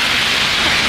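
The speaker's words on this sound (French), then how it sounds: "Elle est sous la pluie." Steady rain falls in the center of Los Angeles, a continuous, even hiss of drops that holds at a loud level for the whole second with no voices.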